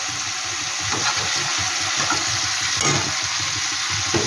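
Green beans fry and get stirred in a hot pan, a continuous loud sizzle broken by repeated scraping and tossing of a utensil, with no voices.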